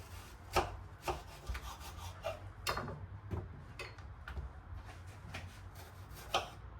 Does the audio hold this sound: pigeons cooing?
no